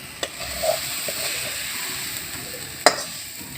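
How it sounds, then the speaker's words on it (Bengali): Coconut filling with jaggery being stirred in a pan, a soft continuous scraping with a faint sizzle, broken by a few sharp utensil clicks near the start and one louder knock toward the end. "এই গুড়টা দিয়ে আমি এখন এই পুরটা নাড়াচাড়া করে বানিয়ে নেব।"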